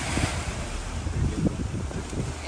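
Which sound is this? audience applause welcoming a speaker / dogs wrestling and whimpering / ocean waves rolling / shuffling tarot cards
ocean waves rolling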